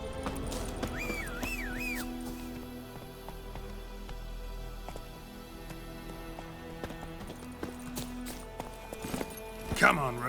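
Roach, the horse in The Witcher 3: Wild Hunt, galloping with a steady rhythmic clip-clop of hooves under game music and spoken dialogue, ending in a brief louder burst.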